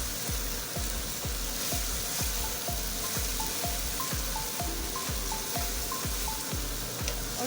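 Spices get stirred into softened onions frying in a pan for karela keema, a dense continuous sizzle with regular low scraping thumps of stirring in a steady rhythm, close up and without talk.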